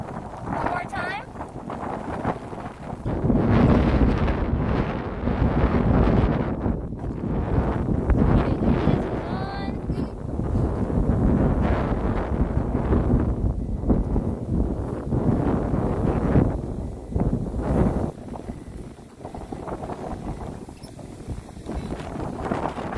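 Strong typhoon-edge wind gusts buffet the microphone outdoors in Tainan, Taiwan, roaring in loud, uneven surges for the whole stretch with brief lulls between blasts.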